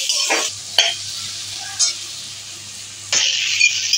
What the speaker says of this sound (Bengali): ভালো করে নাড়িয়ে আলুটা ভেজে নেব